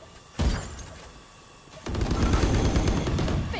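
Valorant gameplay gunfire: a single sharp shot rings out, then after a pause a dense burst of rapid automatic fire rattles on steadily, loud and close.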